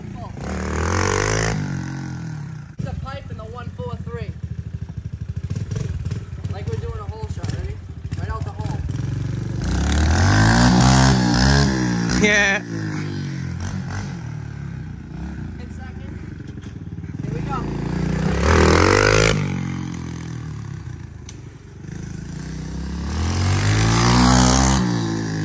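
Kawasaki KLX110 dirt bike fitted with a 143cc bore kit, Mikuni VM26 carburetor and BBR exhaust, ridden at full throttle, engine revving up and down in repeated surges with rising pitch.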